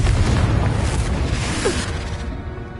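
Confringo blasting spell from Hogwarts Legacy going off as a loud booming explosion, a dense roaring burst that stays heavy for nearly three seconds before easing slightly at the end.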